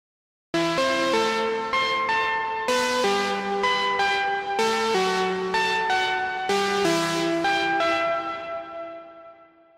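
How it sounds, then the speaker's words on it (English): Sharp, sustained synth lead called Light Years from a deep and melodic house Diva soundbank, ringing out bell-like stepped melody notes over a bass part in several looped phrases, then fading out at the end, with no talking. "The same goes for lead Light Years, but this one is a bit more sharp and sustained"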